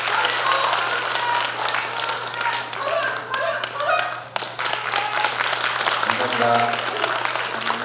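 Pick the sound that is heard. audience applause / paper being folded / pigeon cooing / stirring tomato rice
audience applause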